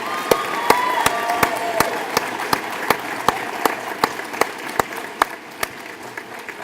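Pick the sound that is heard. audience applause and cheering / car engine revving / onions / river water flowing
audience applause and cheering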